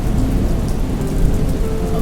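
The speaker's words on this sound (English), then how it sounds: "Lightning flashed and thunder crashed." A thunderstorm rumbles with heavy rain pouring down in a steady broadband wash, the low thunder rolling continuously underneath.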